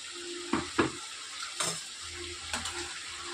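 Ground paste of ginger, garlic, dried coconut, cinnamon and cloves frying in a pan, a low sizzle punctuated by a few sharp stirring clinks and scrapes close by.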